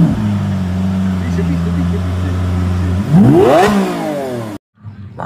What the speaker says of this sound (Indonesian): Ini ada mobil balap teman-teman.